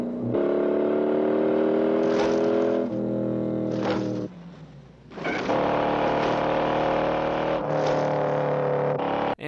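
Roaring car engines from the Bullitt chase scene, loud and sustained, with revving surges, shifting engine pitch and a brief dip before the roar returns.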